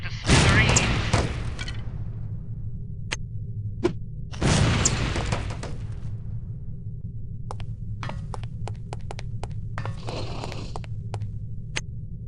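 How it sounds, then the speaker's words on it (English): Lipstick explosives detonate on impact in the spy video game No One Lives Forever, giving two loud booming blasts with rumbling decay, then a third softer burst among scattered sharp clicks over a steady low hum. "relatively inconspicuous-looking lipsticks are actually powerful explosive devices that detonate on impact"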